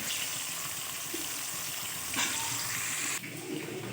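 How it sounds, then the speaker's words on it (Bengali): Potatoes fry in onion oil in a pan for mutton biryani, making a steady loud sizzle with a brief stirring burst partway through and no voices. "আলুটাকে একটু ভেজে নেব।"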